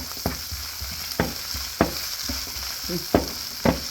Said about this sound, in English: If you like that meaty flavor, put the meat now, the raw meat in here. Fry it off.